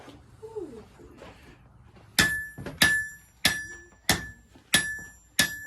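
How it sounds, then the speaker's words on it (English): Hammer blows on hot metal while forging a knife at a backyard forge, six sharp ringing strikes in a steady rhythm, close and loud, after a quieter stretch with a faint voice. "You need to hammer just the sides of it, not the middle too."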